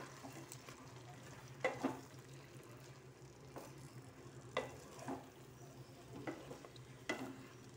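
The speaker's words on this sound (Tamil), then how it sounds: "இப்போ இதை நல்லா மிக்ஸ் பண்ணி விட்டுடலாம்" Cut bread pieces are stirred in a pan for chilli bread, with quiet scraping and tossing strokes at irregular intervals over a low background hiss, faint and close, without any talking.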